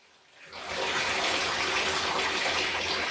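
Water gushes steadily into a bathtub to fill it for soaking a 70-year-old vintage dress, starting after a short quiet moment and then running loud and unbroken with no one talking.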